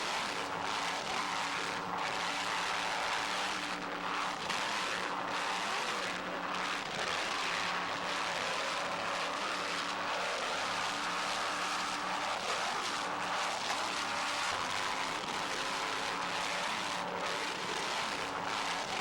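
A 47-foot Fountain powerboat races through very rough water at the 1994 Key West event, its engines a loud, continuous roar that swells and dips for the whole stretch, with no voices.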